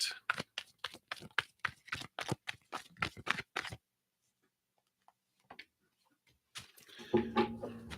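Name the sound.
shuffling a deck of tarot cards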